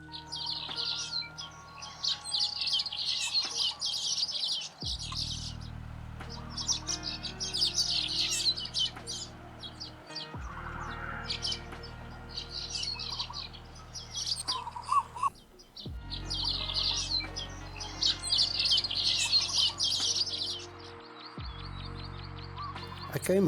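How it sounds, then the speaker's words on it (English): Asian golden weaver birds chirping at aquaculture ponds among Thai rice fields, with steady bursts of bright, busy twittering and tweets through the whole stretch, over a low droning hum that cuts in and out. "I came across this Asian golden weaver at Bangkam aquaculture ponds in the Kompatong the other day"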